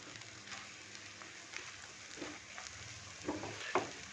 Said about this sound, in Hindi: इसको हल्का सा कुक कर लेंगे ताकि अंडा अच्छे से फ्राई हो जाए